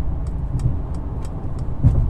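A Mercedes-Benz E 300 cruises at 100 km/h behind a truck, a steady low road and engine rumble with faint periodic ticks, continuous and close inside the car.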